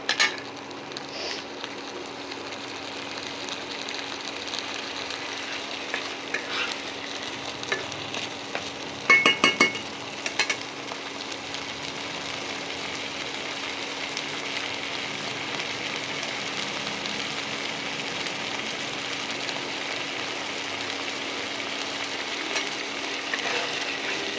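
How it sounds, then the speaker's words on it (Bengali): Onions frying in a pan, a steady soft sizzle that holds from start to finish with a few brief clinks and stirring bursts near the middle, fairly quiet and close, no voices. "পেঁয়াজটা একটু ভাজা ভাজা হোক, তারপরে আদা রসুনের পেস্টটা দেবো।"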